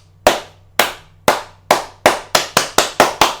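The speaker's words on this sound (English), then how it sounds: "Hand claps to WizKids." Ten sharp single hand claps, spaced out at first and then coming faster and closer together, each crisp and close with a short decay, and no talking over them.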